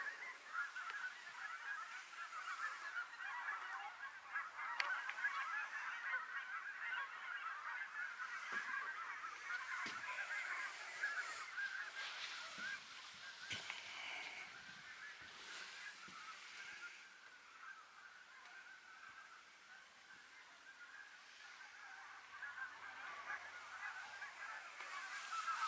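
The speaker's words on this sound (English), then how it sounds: "I'll let you enjoy the sounds of all the geese over here." A large flock of Canada, snow and speckle-bellied geese honks constantly across open water, a dense, continuous clamor that carries from some distance without any voices.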